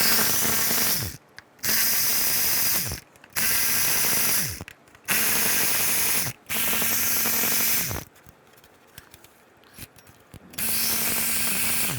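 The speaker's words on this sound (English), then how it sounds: "Now take a T30 socket and you want to remove all these bolts." A ratchet fitted with a T30 socket loosens valve cover bolts on a 2005-10 Volkswagen Jetta, giving repeated bursts of fast clicking, each a second or two long, separated by short pauses, close and clear.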